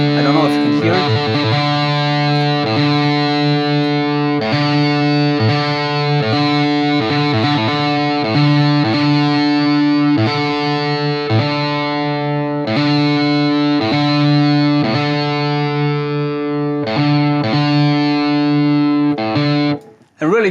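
High-gain distorted electric guitar chords with a parametric EQ boost play loud and sustained, with repeated strummed attacks over about twenty seconds and a brief break near the end.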